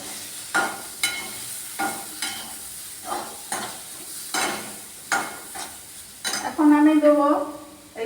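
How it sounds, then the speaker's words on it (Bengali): Ground spices go together into a pan for an egg and potato curry, followed by repeated spoon strokes scraping the pan in an uneven rhythm over a light sizzle, ending in a louder burst of frying with some clinks. "এই মশলাগুলো সব অ্যাড করে আমি একসাথে ঢেলে দিচ্ছি"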